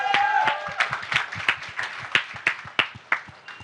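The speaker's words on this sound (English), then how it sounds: "A round of applause for Under 25, guys" An audience at a first-time voters' debate gives a round of applause for the organisers: scattered, distinct handclaps that thin out into a few last sharp claps, with a brief voice-like tone at the start.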